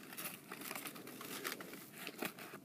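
A paper net of three squares and two triangles is folded into a triangular prism, giving soft, quiet crinkling and creasing with scattered sharper crackles.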